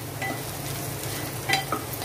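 Onions sautéing over a medium gas flame with a steady soft sizzle, stirred in a pan with brief scraping strokes near the middle and end.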